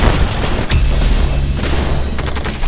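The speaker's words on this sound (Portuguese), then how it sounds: "lançou uns mísseis" Missile explosions in the video game Eximius: Seize the Frontline, a dense run of booms and crashing blasts rolling together, loud and continuous, with a sharp hit near the start and more bursts toward the end.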